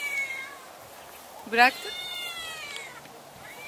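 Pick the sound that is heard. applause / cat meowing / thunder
cat meowing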